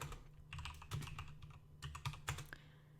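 Clicky bursts of typing on a computer keyboard as a networking command is entered, quiet and close, with uneven clusters of keystrokes and short pauses between them.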